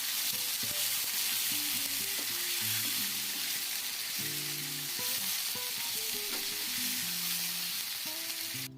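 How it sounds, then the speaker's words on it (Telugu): Chicken is stirred into masala in a frying pan for chicken kurma, a soft, steady sizzle and hiss running throughout at low volume, with faint tonal sounds in the background and no speech. "మసాలా కలిపి పెట్టుకున్నాం కదా చికెన్ ఆ చికెన్ ఇందులోకి వేసుకోవాలి ఇప్పుడు బాగా మిక్స్ చేసుకోవాలండి"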